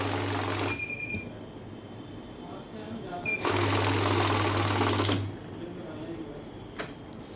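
A cash counting machine running in short mode, loud whirring bursts of notes being fed through, one short burst and a longer one of about two seconds, separated by quieter gaps with faint background sound.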